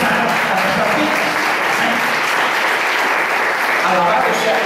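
A church congregation applauds during a Spanish-language sermon, steady dense clapping filling the whole stretch at close range, with voices mixed in beneath it.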